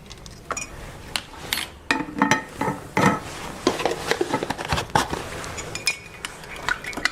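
A spoon stirs sugar into Tim Hortons-style coffee in a cup, giving light, irregular metallic clinks and taps against the sides, close and fairly quiet.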